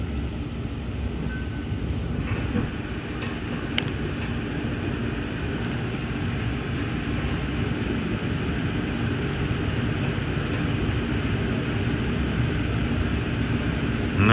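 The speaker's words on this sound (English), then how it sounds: "And this is a Lincoln Service train." Amtrak Lincoln Service passenger train 318 running northbound out of Springfield, Illinois, a steady continuous rumble and rail roar heard from onboard, even and loud throughout with no talking.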